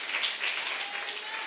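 A church congregation claps together during a Sunday worship service, a dense steady patter of many hands with no gaps, moderately loud and filling the room.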